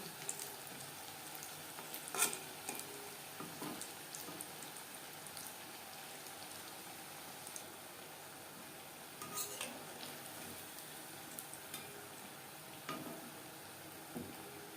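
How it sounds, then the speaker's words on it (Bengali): Moong dal puli, soft lentil dumplings for dudh puli, fry gently in hot oil, giving a steady soft sizzle with a few small clinks and pops from the pan, with no voices. "আলতো হাতে একটা সাইড ভাজা হয়ে যাওয়ার পরে উল্টে দিতে হবে"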